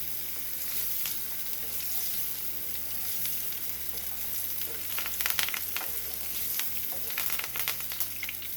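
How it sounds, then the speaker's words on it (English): A vegan steak fries and sizzles steadily in a hot pan as it is basted, with a continuous crackle that swells into brighter bursts of spattering toward the end, close and fairly loud with no talking. "we're just going to leave and baste it like you would a normal steak"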